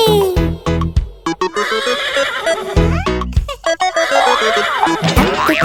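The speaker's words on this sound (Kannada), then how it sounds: "ಕೆನೆಯುವ ಕುದುರೆ ಹೈ ಹೈ ಹೈ" A horse's neighing whinny rings out within a bouncy Kannada children's rhyme, with sharp rhythmic musical hits and sweeping pitched sounds over a full backing track.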